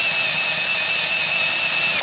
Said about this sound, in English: By the way, this drill is in reverse.